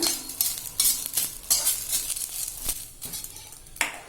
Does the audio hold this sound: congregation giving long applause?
no